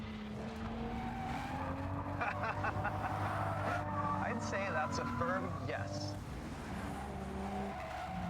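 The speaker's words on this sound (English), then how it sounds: "Will it drift? Let's find out." Car drifting with tires skidding and squealing loudly through most of the stretch, an engine droning underneath; a voice speaks over it.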